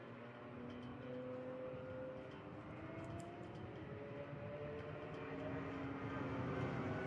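Porsche sports cars racing on a circuit, a sustained engine drone with rising and falling tonal whine as cars pass, fairly distant and steady with no talk.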